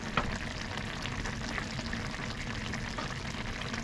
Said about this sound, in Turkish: Bu çok kaynıyor ya.